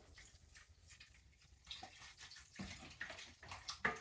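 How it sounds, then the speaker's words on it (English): Vegetable broth poured into a pot or Dutch oven for gumbo, a faint, steady liquid splashing and trickling that runs throughout and swells louder in the last couple of seconds. "We like a lot of broth, so we're gonna add."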